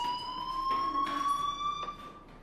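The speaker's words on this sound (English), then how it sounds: "do you hear that fire alarm? That means you should be outside." Electronic fire alarm ringing inside the video game Life Is Strange: a steady high-pitched tone with harmonics sounding continuously and fairly loud throughout, alone with no talk.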